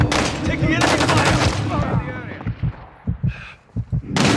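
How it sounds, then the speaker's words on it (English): Enemy gunfire in Call of Duty Modern Warfare 3, a Team Deathmatch multiplayer match on PS5: dense bursts of shots in the first two seconds, then scattered single reports, with game voice lines over the top. "Taking enemy fire."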